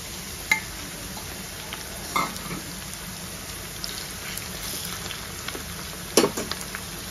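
Fish roe frying in a pan for a fish egg fry gives a soft, steady sizzle, with a few sharp clinks of a spatula against the pan.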